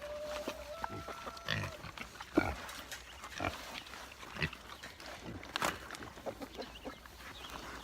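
Pigs grunt and squeal faintly on a farm while pig ration feed is scattered for them to eat, with scattered clucking fowl and soft background shuffling.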